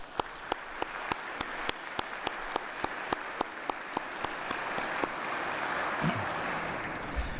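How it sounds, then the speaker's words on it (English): Crowd applause at a military change of responsibility ceremony, steady clapping from many hands filling the whole stretch at moderate distance, with sharp individual claps standing out. "Let's give them all a round of applause, please."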